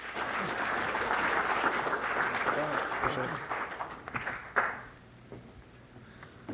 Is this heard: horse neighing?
no